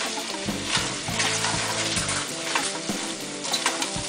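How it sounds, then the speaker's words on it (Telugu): Cauliflower pieces are stir-fried in a pan for pachadi, a busy sizzle broken by repeated clanks and scrapes of the spoon against the pan, close and moderately loud with no talking. "క్యాలీఫ్లవర్ ముక్కలు వేసుకొని ఇలా కలపాలి."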